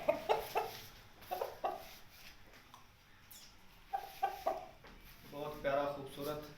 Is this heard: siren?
no